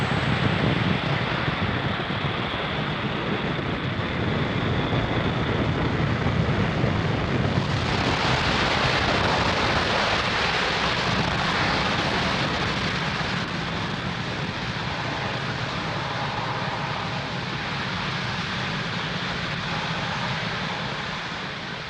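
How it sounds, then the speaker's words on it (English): A Falcon 9 rocket lifts off from Pad 40 at Cape Canaveral carrying a GPS III satellite, a dense continuous roar and crackle filling the whole stretch, loud and steady, slightly swelling midway and easing toward the end. "And liftoff of Falcon 9."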